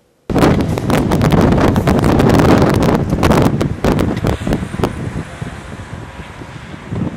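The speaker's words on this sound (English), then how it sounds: "just have a look at how the wind was blowing at a place called Bura" Strong Bura wind blowing across the sea near Rijeka on the Croatian coast: a loud, roaring rush that buffets the microphone in heavy gusts, then eases to a steadier, somewhat softer blow after a few seconds.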